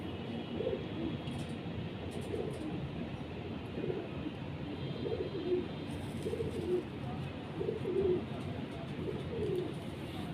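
Pigeons kept for training coo in a loft, a soft low repeated cooing that rises and falls every second or so against a steady noisy background, with no talk.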